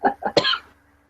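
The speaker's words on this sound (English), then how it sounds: "that was a cough. Like a slight cough." A slight cough comes in three quick, close bursts and then fades into near silence.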